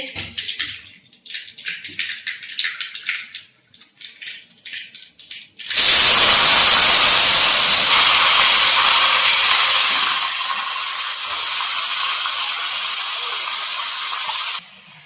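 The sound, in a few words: tempering sizzling in pan for a pickle-style curry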